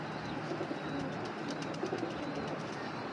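Soft cooing from a grizzle female racing pigeon, a few low murmuring coos close by over a steady background hum.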